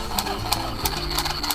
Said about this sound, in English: invested in one of these little hand sewing devices to help finish off the edges